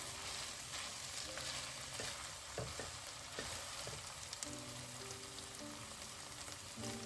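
Ground beef and chopped onion fry in a pan, a faint, steady sizzle with soft crackles and the occasional stir or scrape, no talk.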